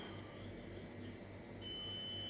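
A dishwasher's high electronic beep tone sounding in a quiet room, a faint steady pitch that sharpens and gets slightly louder toward the end, with no talk over it.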